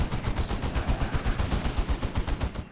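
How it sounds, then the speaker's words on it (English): Volkite cannon on a Chaos Predator tank firing in Warhammer 40,000: Dawn of War Unification, a dense, unbroken stream of rapid booming shots with sharp repeated blasts throughout. "Now I've got a Chaos Predator with a little Volkite cannon on"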